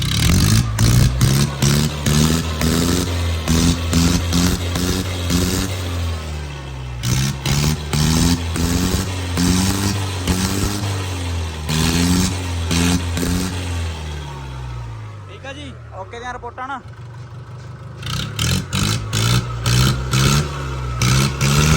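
A heavily smoking Mahindra Bhoomiputra 575 tractor runs close by, its diesel engine revving up and down repeatedly in loud surges. Someone speaks briefly near the end while the engine drops to a lower rumble.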